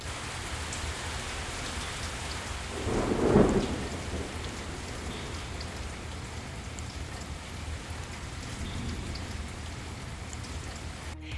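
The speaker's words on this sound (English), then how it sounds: "I am literally standing out in the rain" Steady rain falls outdoors with a hiss, and one low rumble of thunder rolls through briefly before fading back into the constant downpour; no voices.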